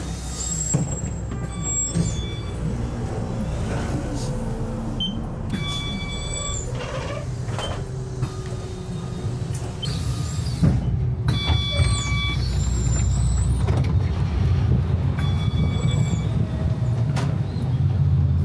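Steady rumble of a city bus ride in Seoul near Itaewon, with continuous low engine and road noise, rattles and occasional squeaky tonal whines, loud and close throughout with no talking.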